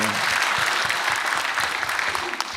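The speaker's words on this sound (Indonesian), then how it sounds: "boleh tepuk tangan dong buat pembuka kita nih malam hari ini" A stand-up comedy show audience applauds the opening comedian with a full, continuous burst of clapping, loud and close for the whole stretch.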